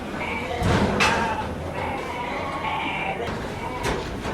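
Sheep bleat a few times in a pen alleyway during weaning of ram lambs, with a voice and some clanking in the background.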